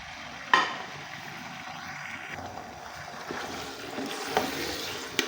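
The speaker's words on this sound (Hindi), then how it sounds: "तो चिकन है 1 kg, इसको हम अपने ऑयल में डालेंगे" One kilogram of chicken goes into hot oil in a kadai, giving a faint, steady sizzle after a sharp initial splash, with soft clatter near the end.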